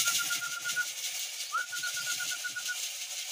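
A Tiger Grizzle pigeon in an aviary gives soft, rapid cooing pulses, fairly faint and close, while a thin steady whistle-like tone runs through the background.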